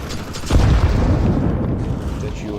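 A grenade explosion in the Counter-Strike 2 video game, a single deep, heavy boom with a rumbling tail over faint in-game background noise.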